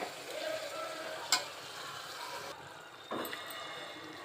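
Mutton biryani mixture cooking uncovered on a high flame, giving a steady sizzling and frying hiss with a couple of brief stirring clatters, close and moderately loud with no talking.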